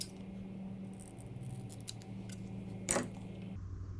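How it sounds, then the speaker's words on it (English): Ordinary utility scissors trimming a piece of plastic, with faint small snips and handling clicks over a low steady hum, then one sharper cut toward the end. "Pair of utility scissors, all I'm using, nothing special."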